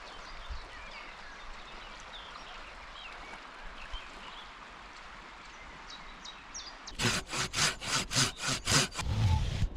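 Quiet outdoor ambience by a forest river with faint birds, then a hand saw cuts firewood in about eight rhythmic back-and-forth strokes, close and fairly loud.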